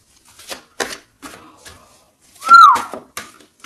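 One person gives a brief falling whistle lasting under a second, set among soft tapping and shuffling sounds nearby.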